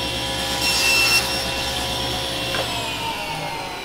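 Saw cutting through a solid wood block, a faint steady rasping with a brief louder scrape near the start, heard alone without speech.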